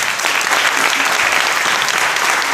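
Church congregation applauding loudly, a dense, continuous wash of many hands clapping close by for a few seconds with no talk over it.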